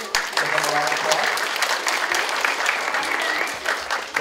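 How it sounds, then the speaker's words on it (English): An audience claps loudly and steadily at a DARE graduation ceremony, the dense applause sustained throughout with light crowd murmur beneath. "Give them a round of applause."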